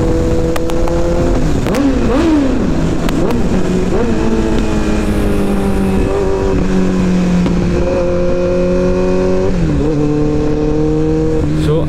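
A Kawasaki ZX14R motorcycle engine revs hard at full throttle, close and loud, its pitch rising and falling through several sustained surges over a constant engine roar.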